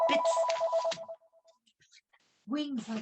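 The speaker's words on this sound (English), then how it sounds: "I don't know how you turn the phone off." A mobile phone ringtone goes off during an evening bird study group talk, a short melodic electronic ring heard clearly and close, followed by someone speaking.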